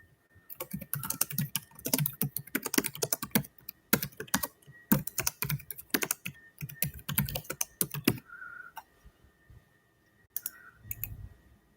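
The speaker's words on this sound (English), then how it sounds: "I'm going to type that." Rapid bursts of typing on a computer keyboard, close and crisp clicks with short pauses between runs, then a few scattered keystrokes near the end.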